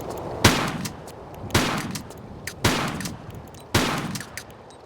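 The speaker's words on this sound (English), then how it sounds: "Let's take out the musket. Lay waste to some of these beasts." Musket fire in the Tomb Raider custom level King Arthur Project, four loud, sharp shots spaced about a second apart, each cracking out and trailing into a short rumbling decay against quiet game ambience.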